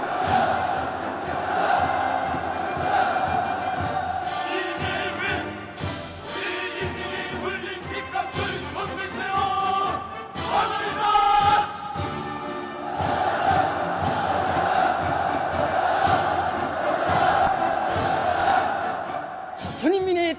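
A huge crowd at a mass rally in Pyongyang roars slogans and shouts in unison, waves of massed voices surging and falling over about twenty seconds, loud and reverberant in an open outdoor space.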